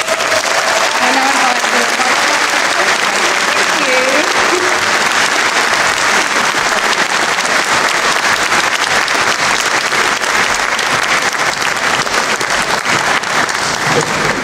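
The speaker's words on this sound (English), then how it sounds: "give it up one more round of applause for Logan, please" A 2019 university graduation ceremony audience, Faculty of Computing, Engineering and Built Environment, breaks into loud, sustained applause that fills the hall evenly throughout, with a faint voice briefly heard at the start.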